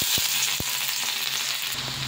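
Chopped ginger and garlic frying in hot oil for chilli chicken, a steady close hiss of sizzling broken by a couple of soft knocks of a spoon against the pan.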